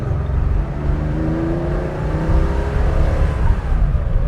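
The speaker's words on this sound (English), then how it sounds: "as we normally do, we go through the gears" A 1975 Porsche 911 2.7 Carrera MFI engine drones steadily and loudly from inside the car, its pitch rising and shifting as it accelerates through the gears, with no talking.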